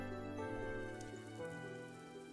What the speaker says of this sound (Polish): Zimowy deszcz bezlitośnie pada na mnie, gdy biegnę.